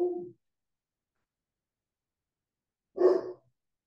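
A dog barks twice with a long gap between, short single woofs, fairly close and clear, with no talk over them.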